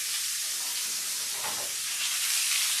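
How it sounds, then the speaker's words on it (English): Short ribs sear in a hot pan, giving off a steady, close sizzling hiss that holds level throughout with no voices. "you're getting this nice brown sear"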